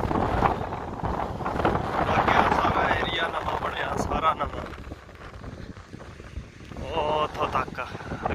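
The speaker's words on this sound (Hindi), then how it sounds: "बहुत तेज हवा चल रही है अज।" Strong wind at a rocky beach in Cyprus buffets the microphone with loud, gusting rumble that rises and falls, while someone talks over it.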